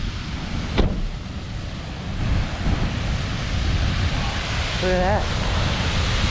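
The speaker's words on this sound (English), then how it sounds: "And right in front of us, waterfalls." Waterfalls rush over ice at Old Mill Park, a steady broad roar of falling water with wind noise across the microphone. People speak briefly over it, and a short whistle-like tone rises near the end.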